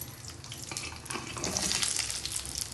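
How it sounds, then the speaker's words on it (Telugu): Ivy gourd frying in a little oil in a pan, a steady close sizzle that grows slightly louder, with soft scraping from stirring and no voices. "ఇట్లా చిన్న చిమ్ములో పెట్టి ఇవి మగ్గేదాకా మంచిగా ఫ్రై చేసుకోవాలి."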